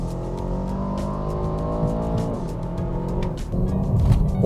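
2023 Aston Martin DBX707 SUV in Sport Plus mode, engine droning steadily as it downshifts, with a rising rev flare near the end; moderately loud interior sound, no talking.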